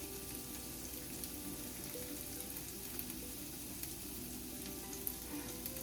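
Eggs sizzle steadily in a hot pan for a western omelet, a continuous soft frying hiss with faint crackles and occasional scraping from a spatula, fairly quiet with no voices.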